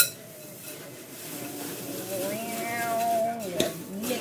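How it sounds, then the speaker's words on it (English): A spoon stirs a sticky marshmallow snack mixture in a bowl, making soft scraping and light clinks close by, partly under a speaking voice. "Mix it all up."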